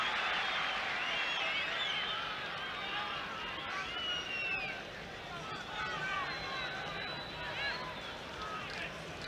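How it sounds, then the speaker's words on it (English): Football crowd at Lansdowne Road, Dublin, during the 1990 Ireland versus Soviet Union friendly, applauding and roaring as a steady, dense wash of noise that carries on under a commentator's voice. "The crowd appreciated that."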